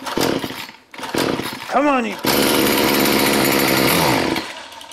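Gasoline string trimmer being pull-started: a short rising recoil-pull whine, then the small two-stroke engine catches and runs steadily and loud for a couple of seconds before dropping off, with someone talking over it at the start.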